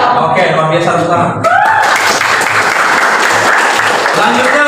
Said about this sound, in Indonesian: Oke, luar biasa, tepuk tangan.